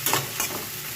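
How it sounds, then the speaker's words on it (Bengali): Onions frying in oil left over from frying fish, a close, dense sizzle with a couple of quick stirring scrapes. "মাঝে পেঁয়াজটা দিলাম, লাল লাল করে ভেজে নেবো"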